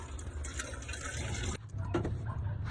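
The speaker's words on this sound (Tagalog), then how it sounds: "At sunod naman ay magpapakulo na tayo ng tubig." Water poured into a cooking pot to be boiled for tuna sinigang, a steady close pouring and filling wash that gurgles and drips near the end, with no talk.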